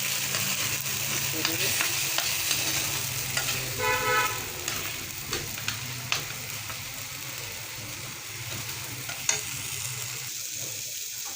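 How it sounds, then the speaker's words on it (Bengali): Tomato and egg scramble sizzling in a pan as it is stirred, a steady frying hiss broken by scraping spatula strokes and small knocks, with a brief spoken phrase near the start. "এখন এটা নাড়া দিব"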